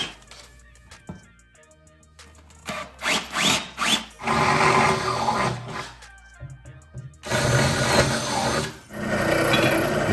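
A drill bores and countersinks holes in wooden feet supports for a storage king bed, with short intermittent bursts of whirring, then longer sustained drilling runs, close and loud with pauses between.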